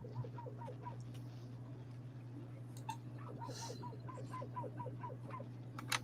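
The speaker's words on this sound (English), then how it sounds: "I hear somebody out there barking. Yeah, that's my dogs." Several dogs bark at a distance in a steady, repeated pattern, with a constant low hum running underneath.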